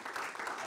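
A short burst of dense audience clapping at an entrepreneurship event in Bangalore, steady and fairly loud across the whole brief moment.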